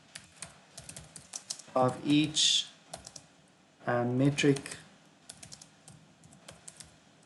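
Typing on a computer keyboard, rapid uneven clicks and taps heard close up throughout, with someone speaking in two short bursts over the keystrokes.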